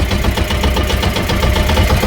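A fishing boat's engine idles with a steady, close mid-range throb and rapid regular knocking pulses, loud and continuous throughout the short stretch with no talk over it.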